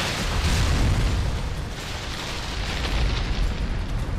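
A hive in Metroid Other M explodes in a loud, rumbling boom that swells and lingers, then comes back in a second surge of blasting noise a few seconds later.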